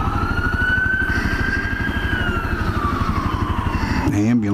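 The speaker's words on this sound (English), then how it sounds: "Ambulance there." An ambulance siren sweeps past in town, its wail steady then falling away, heard over the close, loud rumble of a motorcycle engine during a ride.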